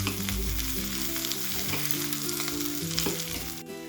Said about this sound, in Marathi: 1 ते 2 मिनिट आपण काजू सुद्धा परतून घेऊ।